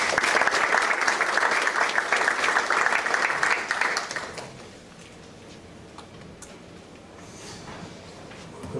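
Audience applause welcoming a speaker at a sports development event with the Peruvian Olympic Committee: strong crowd clapping for about four seconds, then fading to a quiet room with faint scattered sounds.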